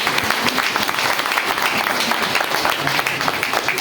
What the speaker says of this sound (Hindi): तो मैं चाहूंगा सर के लिए एक जोरदार ताली